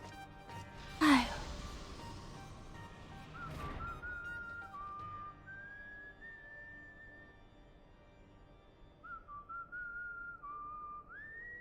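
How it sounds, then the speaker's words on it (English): A character in Final Fantasy VII whistles a slow, wandering tune after a brief breathy sound, the melody clear and fairly quiet, with longer held notes and short pauses. "He was whistling."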